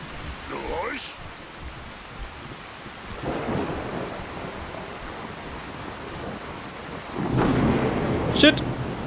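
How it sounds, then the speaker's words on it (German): Heavy rain hisses steadily in the Fallout 4 video game, broken by rolling rumbles of thunder that swell near the start, midway and toward the end, with no speech. "Es regnet zu sehr."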